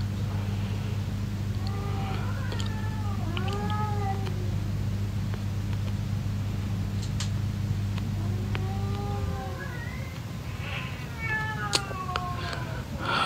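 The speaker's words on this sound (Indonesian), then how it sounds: "Iya, kedengeran ya suara kucingnya?" A cat meows repeatedly, several short rising-and-falling cries in two bursts, fairly clear over a steady low mechanical hum that stops partway through, with faint clicks in the background.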